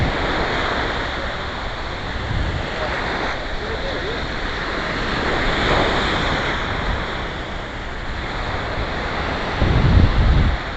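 Ocean waves break on Fort Lauderdale beach in a continuous, loud rushing wash with some wind buffeting, and the surf surges stronger near the end.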